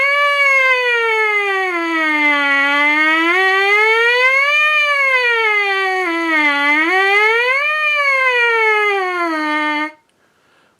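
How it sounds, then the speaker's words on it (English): Trumpet playing continuous rising and falling pitch sweeps like a siren, a loud, steady, bright tone swooping up and down repeatedly for about ten seconds, then stopping abruptly into silence. "I like to practice making sirens."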